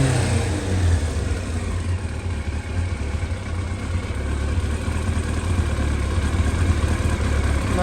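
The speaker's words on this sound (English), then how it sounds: "It's idling pretty decent." A warmed-up Yamaha R1 5JJ motorcycle engine idles with a steady, even low rumble, loud and close, with no talking.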